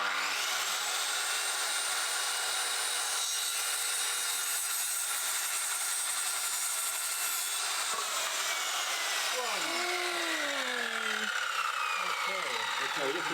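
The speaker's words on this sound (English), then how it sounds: "So me and Simon, we're literally going to cut wood to size now and then varnish it." Wood being sawn to size for a ceiling in a stone house renovation, a steady broadband rasp running continuously and fairly loud, with people talking briefly near the end.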